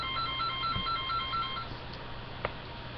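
A mobile phone ringtone plays, a rapid repeating electronic melody of short high beeps lasting about a second and a half before stopping, followed by a faint click.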